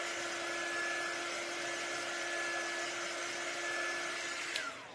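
A hair dryer heat-sets ink on a shirt with a continuous, steady whirring blow and a fixed hum. It runs close and unbroken for the full stretch, then a faint click comes near the end, with no talking.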